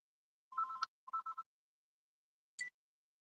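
Quiet telephone keypad dialing: two short bursts of steady two-tone DTMF beeps, then one brief, higher ringing chirp after a pause, with no talk.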